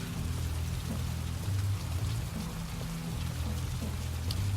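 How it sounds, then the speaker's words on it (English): Steady, dense rain pours down in the Heavy Rain video game, a constant wash of falling water with low rumbling underneath and no talking. "I'm pretty sure it doesn't rain this much in Philadelphia."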